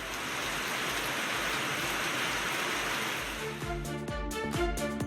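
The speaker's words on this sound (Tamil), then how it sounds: "இரவு 9 மணிக்கு பிறகு தொடங்கிய மழை வலுப்பெற்று கனமழையாக பெய்தது." Heavy night rain falls in Srivilliputhur, Virudhunagar district, Tamil Nadu, as a dense, loud, unbroken roar of hiss. Rhythmic tonal sounds join in over the last second or so.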